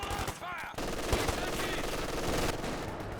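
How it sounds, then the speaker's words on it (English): Rifles and light machine guns fire in bursts during a Company of Heroes 2 multiplayer battle, dense rattling gunfire continuing steadily with a brief lull near the start. "only 2 rifles are firing at the moment"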